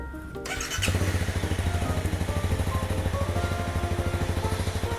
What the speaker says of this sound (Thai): คันนี้ท่อเดิมนะครับผมเสียงเงียบๆนุ่ม ๆ เลย